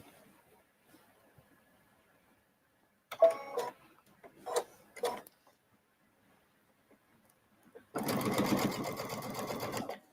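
A sewing machine stitching binding onto a circle, running steadily for about two seconds near the end after a mostly quiet stretch where two women chat briefly.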